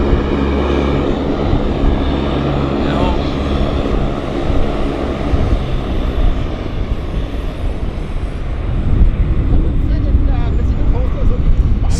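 A Summit Air regional jet at Vancouver Airport, its steady engine roar filling the whole stretch loudly and continuously, with people talking over it.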